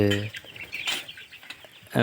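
Chickens clucking and calling nearby on a poultry farm, young birds around 300 grams, in short, scattered bursts, with some faint background noise between the calls.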